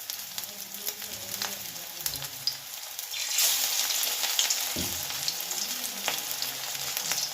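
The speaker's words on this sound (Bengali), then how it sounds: "বড়াগুলো একটু দুবারে ভাজবো।" Prawn fritters made from shaped batter sizzle in hot oil, a soft steady crackle with occasional pops and a brighter hiss as more pieces go in, with faint clinks of a utensil.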